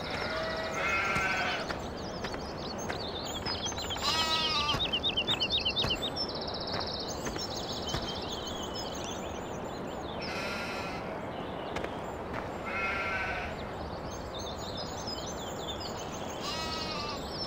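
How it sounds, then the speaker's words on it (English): Sheep bleat repeatedly in Farming Simulator over a steady rushing ambience, several wavering calls near and far, with chirping birds scattered among them. "There's our sheep."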